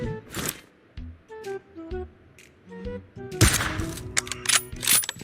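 Short bursts of gunfire in PUBG Mobile, several sharp shots and quick rapid-fire volleys, loud and close, with brief pauses between them.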